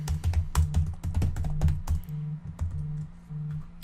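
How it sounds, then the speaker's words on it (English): Typing a business name on a computer keyboard: crisp, close key clicks in quick irregular bursts, with a low hum behind them and short pauses between runs of keystrokes. "we're just gonna type in our business name"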